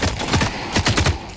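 Bursts of gunfire in The Cycle: Frontier, a rapid volley of loud, clustered shots that repeat in quick irregular groups, with no talk over them.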